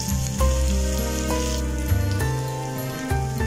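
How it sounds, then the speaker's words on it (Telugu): Coconut, carrot and capsicum pieces fry in a pan, a lively close sizzle with a few stirring bumps, heard beneath tonal background music. "అలాగే పచ్చిమిర్చి ముక్కలు కూడా వేసి వేపుకుందాం ముక్కలు వేగుతూ ఉంటాయి"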